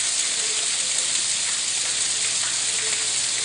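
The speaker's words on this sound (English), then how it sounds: "There you see it just coming down really off the roof. Very heavy rainfall just kind of piling up." Heavy rain pours steadily off a house roof in New Braunfels, South Texas, during storms, making a constant dense hiss of falling water with faint drips, close and loud with no voices.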